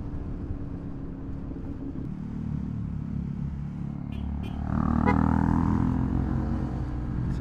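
Yamaha Aerox V2 scooter with a JVT 2.1 exhaust, its engine droning steadily and close, then swelling louder in a brief rev toward the end.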